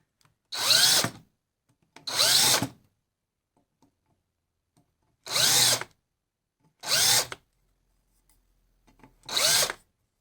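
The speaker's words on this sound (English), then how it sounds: "I'm going to lightly countersink it on the bottom." Power drill lightly countersinking a hole in the bottom of a salvaged CNC lead screw part clamped to a bench, five short, loud whirring bursts separated by silent pauses.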